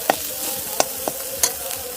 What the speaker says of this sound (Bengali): বাদামটা আমি একটু সময় কষিয়ে নেব।